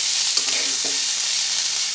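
Teasel gourd (kakrol) frying in oil while stirred, a steady, bright sizzle throughout with a couple of soft scrapes of the spoon in the pan.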